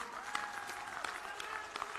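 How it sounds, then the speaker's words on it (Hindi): A crowd at a political election rally in Patiala claps steadily in dense, continuous applause, heard from a distance with faint background noise. "ताली बजाइए सभी लोग।"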